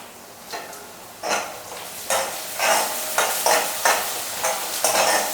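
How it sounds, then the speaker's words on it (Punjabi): Chopped onion and ginger fried in a pan and stirred in repeated bursts, each pass a loud rushing sizzle-scrape, close and steady in rhythm with no talking. "ਇਹਦੇ ਵਿੱਚ ਮੈਂ 1 ਇੰਚ ਦੇ ਕਰੀਬ ਅਦਰਕ ਚੋਪ ਕੀਤਾ ਹੋਇਆ ਇਹ ਵੀ ਪਿਆਜ਼ ਦੇ ਨਾਲ ਹੀ ਆਪਾਂ ਭੁੰਨ ਲੈਂਦੇ ਹਾਂ"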